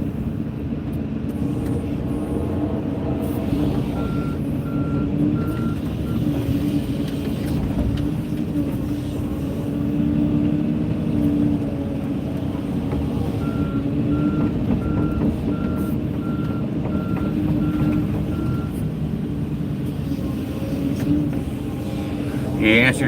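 At an excavation site a truck's reversing alarm beeps in two runs of evenly spaced tones over the constant rumble of heavy engines, with voices talking intermittently.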